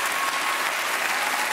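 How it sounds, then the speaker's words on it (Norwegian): Studio audience applauding a winner on the Norwegian TV contest Stjernekamp 2012, an even burst of many hands clapping, steady and moderately loud, with no voices over it. "En applaus til Tuva."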